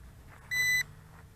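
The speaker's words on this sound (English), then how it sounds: "the remote control does send out some beeps" A BAYANGTOYS X28 2.4G drone remote control gives a single short, clear electronic beep, bright and tonal, over faint outdoor background noise.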